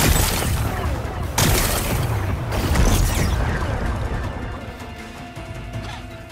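Machine power cell exploding in Horizon Forbidden West: a loud, sustained crash of blasts and smashing debris with repeated impacts, then a slowly fading rumbling tail.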